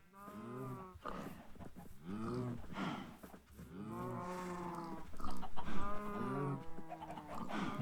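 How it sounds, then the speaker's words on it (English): Cows in Minecraft moo repeatedly in a loose, overlapping series of drawn-out calls, fairly quiet and with no talking. "We have a lot of cows."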